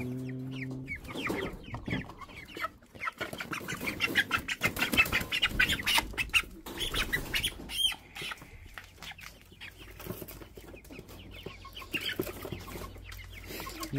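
Clucking and flapping hens, including naked-neck and red hens, are handled on a broiler farm while being weighed, with agitated squawks and wingbeats close by throughout and no talk.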